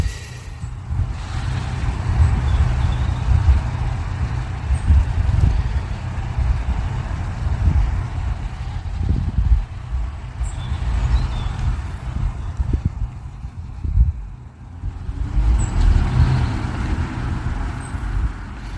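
A truck passes through traffic at the Belgian–Dutch border crossing, a loud continuous low rumble of engine and tyres that swells and fades with other road traffic, with faint hisses that may be air brakes.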